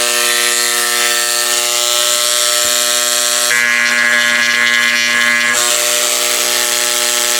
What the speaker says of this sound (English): The metal, I'll try again scratching over the piece that I did